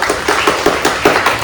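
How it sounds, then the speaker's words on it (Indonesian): Rhythmic hand clapping from a group at an evening Indonesian independence-day gathering, steady sharp claps about five per second, fairly close and loud, with no talk over them. "Tepuk tangan dong."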